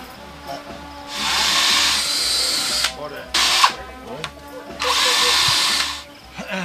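A cordless DeWalt power drill whirs loudly in three bursts, a long spin, a short one and another long run, with quiet pauses between.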